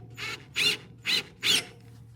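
Ratchet torquing bolts on a Cybertruck accessory bracket: three short, evenly spaced bursts of clicking, close and moderately loud, over a low steady hum, with no talking.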